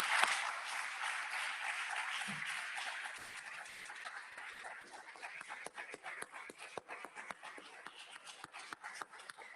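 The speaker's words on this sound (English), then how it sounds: "Give her another round of applause." A crowd at a county board of commissioners meeting applauds with dense clapping that gradually thins into scattered individual claps.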